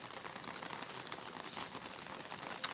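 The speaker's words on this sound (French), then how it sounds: "j'adore entendre tomber la pluie" Rain falls outdoors with a soft, continuous patter and fine crackle, quiet and steady, no voices.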